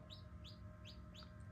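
Newly hatched chicks give soft, high chirps in an even rhythm, about four short tweets spaced evenly over a faint low background hum.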